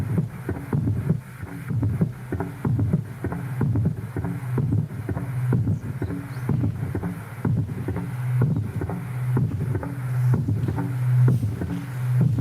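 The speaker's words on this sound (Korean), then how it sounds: "큰 원동기 이 기계 엔진 소리가" A large engine-like machine rumbles at a borehole site, a deep, loud, steady throbbing with a regular pulsing rhythm that continues throughout.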